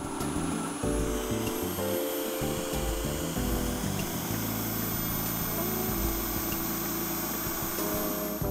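Drill with a ball-cutter bit turning small wooden balls, a steady loud motor whine with shifting pitch under a constant drone.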